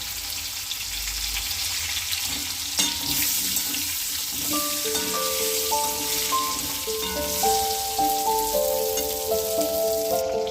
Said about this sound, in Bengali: পটলটা প্রথমে ভেজে নেব পটলটা হালকা করে ভেজে নেব